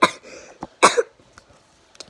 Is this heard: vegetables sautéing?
no